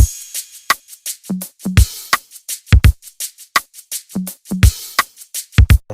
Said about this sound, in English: These two different kind of shakers.